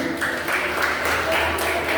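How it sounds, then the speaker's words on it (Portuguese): A church congregation claps together in worship, a dense, steady patter of applause with a low hum underneath, continuous and fairly loud across the brief moment. "aplauda o Senhor"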